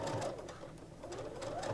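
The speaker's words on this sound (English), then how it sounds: "You just sew on the line." A sewing machine runs steadily, stitching fabric along a marked line while piecing flying geese quilt units, its motor hum and needle chatter continuous and close for the whole short stretch.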